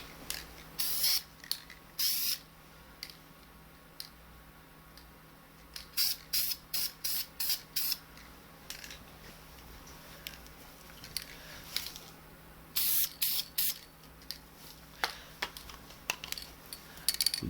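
Short hissing bursts of spray paint as a light coat goes onto the front of an EVGA Pro 2-way short SLI bridge, several quick sprays in clusters with pauses between, close and fairly loud.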